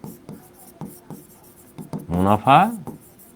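Chalk or marker strokes on a classroom board during a maths lesson, a series of short scratchy taps and rubs, followed by a louder burst of a teacher's voice.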